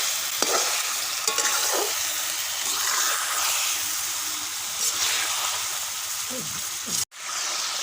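Chicken karahi meat frying in a karahi pan, a dense, close hissing sizzle broken by spatula scrapes and stirring, ending with a sharp knock.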